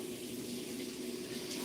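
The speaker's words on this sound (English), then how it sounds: "Let me rinse my hand real quick." Tap water runs steadily in a kitchen sink as a hand is rinsed under it, a continuous close splashing hiss.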